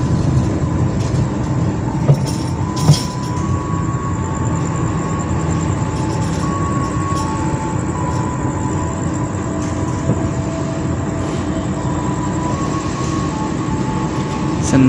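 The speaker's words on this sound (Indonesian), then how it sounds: "Pukul 19:37 perjalanan saya bersama kereta api Jayakarta masuk stasiun Wates." Passenger train KA Jayakarta pulls into Wates station, heard from inside the carriage as a steady loud rumble of wheels and running gear with occasional clanks and squeaks, continuous and close.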